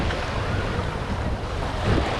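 A sea shuttle boat running to Isla Mujeres off a Cancun beach, its engine a steady low rumble blended with wind buffeting the microphone and surf washing nearby, continuous for about two seconds with no voices.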